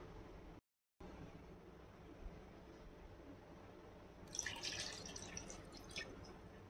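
Water is poured into a cup of curd to make spiced buttermilk. Quiet drips come first, then a brighter splashing pour starts near the end. A short gap of silence appears early on, and no one speaks.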